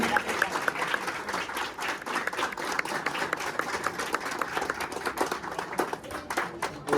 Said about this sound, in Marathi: जोरदार टाळ्या पाहिजे